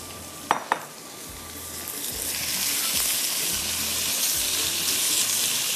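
Half a kilo of keema (minced meat) dropped into a pan with green chilli, starting with two sharp clacks, then a steady broad sizzle and hiss building as it is broken up and stirred, with soft repeated scraping underneath.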